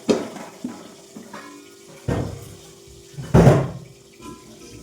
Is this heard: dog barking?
no